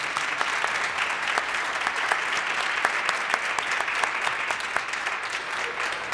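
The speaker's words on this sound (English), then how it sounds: "let's give him a big round of applause." A live audience gives a poet from Guadalajara, Mexico, a sustained, dense round of clapping at a film premiere, the steady applause filling the room for several seconds without pause.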